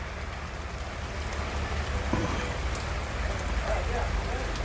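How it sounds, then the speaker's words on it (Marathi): Heavy rain falls steadily and loudly in a continuous, dense broadband hiss with no breaks. "पाऊस आहे जोरदार."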